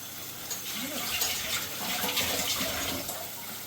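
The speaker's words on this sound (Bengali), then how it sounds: "বন্ধু, এবার মশলাটাকে আমি ভালো করে কষিয়ে নেব" Masala with chili powder sizzles in a pan while being fried for butter paneer, a steady close crackling hiss with no speech.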